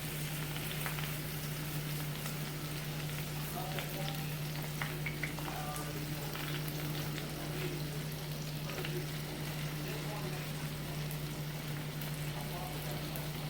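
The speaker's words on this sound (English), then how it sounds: "start putting in the bacon" Bacon pieces frying in a pan for a Mexican-style breakfast, giving a steady, even crackle and sizzle throughout, with a low constant hum underneath.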